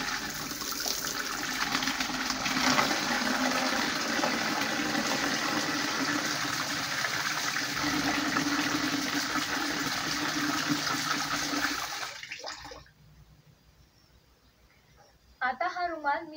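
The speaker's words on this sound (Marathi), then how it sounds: "तर इथे मी पाणी घेते।" Water gushes steadily into a container for a cloth-soaking step, then stops abruptly, and a few clinks follow in the quiet.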